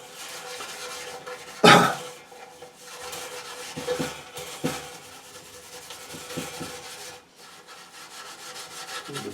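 A Brillo pad scrubs lightly over a brass object, giving close, uneven rasping rubs, one sharp scrape early on followed by softer intermittent strokes.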